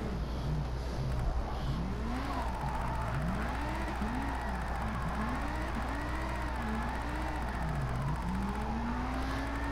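A Lamborghini Huracan Gr3 race car in Gran Turismo Sport drifting, its engine note rising and falling as it revs through repeated throttle swells under a steady low drone.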